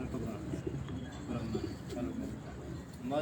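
Soft, repeated pigeon cooing in a steady low murmur, with a background of other bird sounds and some voices mixed in.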